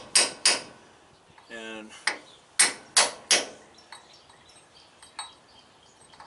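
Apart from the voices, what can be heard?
hammer and chisel knocking out a stuck truck bushing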